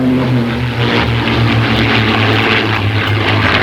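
A P-51 Mustang's piston engine drones steadily with a loud, rough propeller roar, close and constant with no voices.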